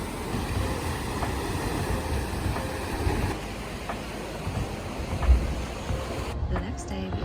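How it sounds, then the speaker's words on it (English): Ocean waves crash along the rocky Oregon coast in a continuous wash of surf, a steady roar with slight swells, heard from nearby without voices. "there's even more crashing waves that have cut the coast down here."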